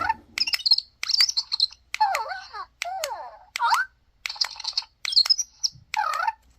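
Zhu Zhu Pets City hamster toy squeaking after its head button is pressed, a string of short chirpy electronic squeals and warbles in quick separate bursts, close and fairly quiet, no talk.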